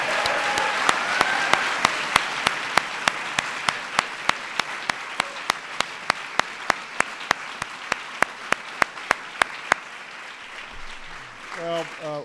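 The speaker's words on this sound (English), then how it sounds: "Let's give them a big round of applause again" A crowd at a presidential arts and humanities medal ceremony claps steadily with loud, sharp hand claps standing out over the dense applause, which fades out near the end.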